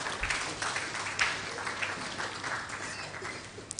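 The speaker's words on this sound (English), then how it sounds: "Shall we please give them a round of applause for this?" Audience applause at the launch of the Energy Commission's third Senior High Schools' renewable energy program in Ghana, a steady fairly faint wash of clapping from a room of people, with no clear talk over it.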